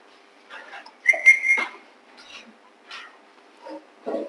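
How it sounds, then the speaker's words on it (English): A person whistles one short high note in a classroom. Brief scattered sounds from the room come before and after it. "People could whistle."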